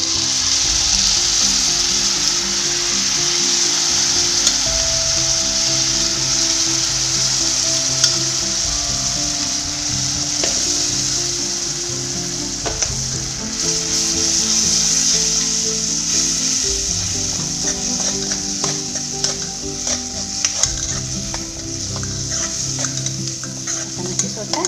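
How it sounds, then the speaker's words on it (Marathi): Spices sizzle steadily in hot oil while a utensil stirs and scrapes the pan, with occasional sharp clicks, close and continuous throughout, as masala roasts for egg curry. "मसाला हितूनच हांव भाजून घेता."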